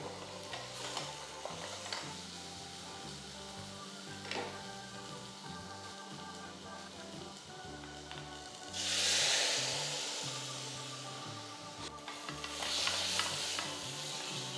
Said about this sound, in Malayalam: പച്ചമണം മാറണം, കുറച്ച് നേരം കൂടെ വഴറ്റിയെടുക്കാം.